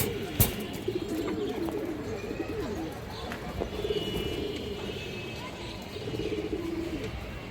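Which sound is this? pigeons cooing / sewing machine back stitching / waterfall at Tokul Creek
pigeons cooing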